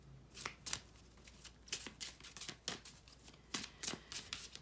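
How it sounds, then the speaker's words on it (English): Oracle cards being shuffled by hand in quick riffling bursts, close and fairly quiet, repeating in an irregular rhythm with no talking. "We're gonna go ahead and pull some oracle cards right away"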